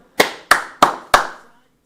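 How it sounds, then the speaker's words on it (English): Four single hand claps, evenly spaced and close, each sharp with a short ringing decay, from a man clapping during a live Champions League football watch-along. "Why am I clapping?"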